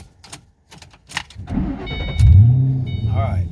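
Shelby GT500 with a manual clutch is cranked and fires up: brief clicks and rustles, then a starter whir leading into a loud, deep engine catch and rumbling idle, with people talking beforehand.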